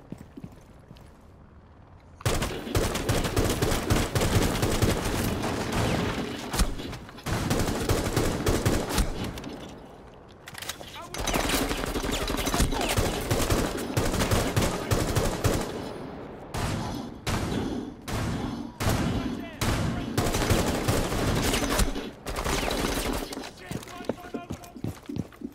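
Rapid bursts of gunfire fill a Rainbow Six Siege match, loud dense volleys with brief pauses, a voice talking over parts of the shooting.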